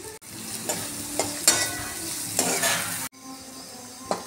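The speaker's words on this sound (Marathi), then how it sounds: "त्यामध्ये कांदा टाकायचा व तो छान गोल्डन कलर येईपर्यंत परतायचा" Chopped onion sizzles steadily in a hot pan with oil while a spoon stirs it toward golden brown, with close scraping strokes and occasional clinks over the continuous frying hiss.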